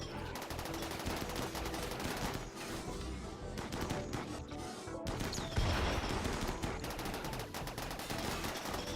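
Dense, continuous crossfire in RimWorld rattles on for the whole stretch, rapid overlapping shots forming a steady barrage with a brief lull near the midpoint and no speech on top.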